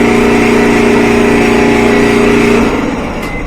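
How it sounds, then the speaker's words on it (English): A Frigidaire clothes dryer motor with its belt disconnected, spinning freely with a loud steady hum and drone that holds evenly, then begins to wind down near the end. "So I think the motor is just spinning and not connected to the belt."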